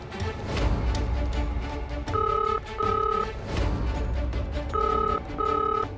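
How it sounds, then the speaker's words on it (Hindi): Telephone ringback tone from an unanswered call, repeating in paired beeps of roughly half a second each, two pairs separated by a pause, over a steady background bed of music. "माँ, रिंग जा रही है लेकिन उठा नहीं रही है"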